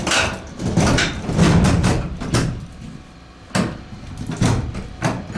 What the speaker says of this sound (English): Time to get the doors open.